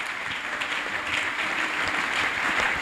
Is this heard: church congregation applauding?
yes